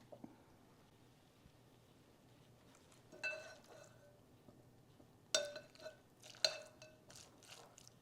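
Spoon stirring lemon basil chicken salad with pecans in a bowl: faint scrapes and soft clinks, first isolated, then a few sharper knocks late on, against a quiet room.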